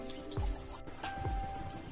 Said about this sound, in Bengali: সকাল থেকেই চলছে অনবরত বৃষ্টি।